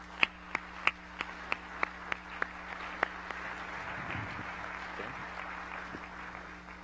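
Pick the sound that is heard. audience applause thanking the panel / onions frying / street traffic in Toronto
audience applause thanking the panel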